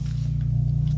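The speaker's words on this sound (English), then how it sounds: "Yeah, that's the lawnmower." A lawnmower runs outside as a steady, low engine drone, with nothing else over it.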